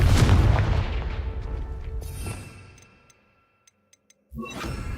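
A Confringo fire spell explodes in Hogwarts Legacy with a loud booming blast that rumbles and decays over about three seconds, followed by near silence with a few faint ticks, then another burst of action sound.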